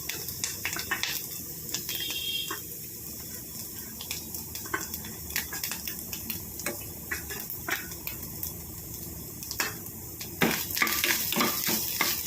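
Grated coconut roasting with mustard seeds in a pan for Kerala-style pumpkin and green gram erissery, a steady close sizzle broken by frequent scrapes and stirring clinks, with no talking.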